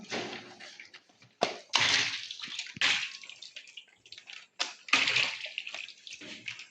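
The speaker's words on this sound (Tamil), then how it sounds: "ரீஃபண்ட் ஆயில் ஊற்றிக்கலாம்." Refined oil is poured into a large pot for a big batch of mutton biryani, heard as irregular splashing, gushing bursts with short gaps, fairly close.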